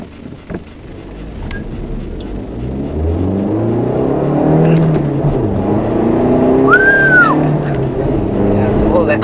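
Modified Volkswagen Golf 7 TDI accelerating hard with traction control off, a steady loud engine drone building and rising in pitch over several seconds, heard from inside the car.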